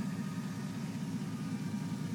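A 1998 Chevy S-10 with a V8 idles through a Flowmaster exhaust, giving a steady, deep, even rumble that stays close and constant with no voices over it.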